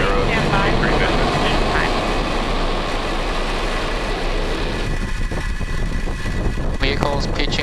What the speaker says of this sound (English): Ignition and liftoff. We have Falcon 9 and the EROS C-3 mission.